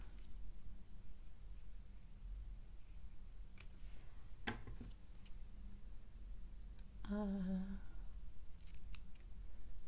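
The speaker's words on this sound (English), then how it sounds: "these scissors, I've been using them for paper" Paper cut with a worn pair of craft scissors: a few soft, scattered snips sound close by over low room noise during a card-making session, with a brief voice in the middle.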